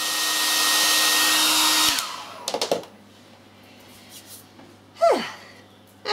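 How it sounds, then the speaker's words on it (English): A hair dryer blows steadily and loudly for about two seconds while drying the first watered-down grout layer on a handmade Exo Terra reptile terrarium background, then clicks off, leaving faint handling noises and a brief breathy sound. "I'm now going to dry it off using my hairdryer."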